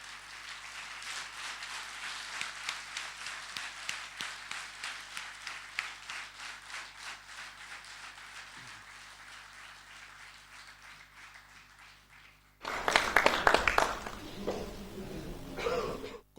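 Audience applause at a stage jubilee celebration for a folk ashiq, steady clapping from a crowd in a hall that swells louder near the end.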